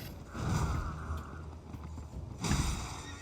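Hooves of a mounted enemy's horse in the Elden Ring video game thud in two bursts amid game music and ambience, fairly loud and close.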